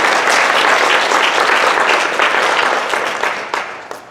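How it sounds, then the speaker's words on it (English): A crowd at a kindergarten graduation ceremony claps loudly and densely, then the applause gradually thins and fades over about four seconds. "So a nice round of applause for those two ladies"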